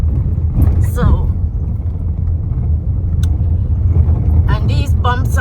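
A worn car with a shaking body rumbles and rattles steadily over a bumpy road, the low engine and road noise loud and continuous, with a voice heard briefly over it.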